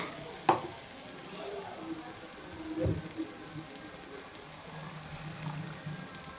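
A spoon stirs tomato kurma in a pan, with soft scraping and a couple of sharp clinks against the metal over a faint, low bubbling sizzle; quiet and close.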